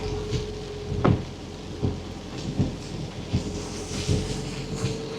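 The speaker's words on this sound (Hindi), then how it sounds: "ये तो तूफ़ानी पानी है जो इस वक्त नीचे गिर रहा है शदीद तरीके से" Heavy monsoon storm rain pours down on the road from Islamabad to Toli Peer in Azad Kashmir in a steady roaring hiss, with dull thumps recurring at regular intervals beneath it.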